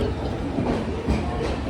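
Train rolling along the Katpadi–Tirupati line, heard from inside a sleeper coach as a steady rumbling clatter with faint rhythmic wheel beats throughout, no voices.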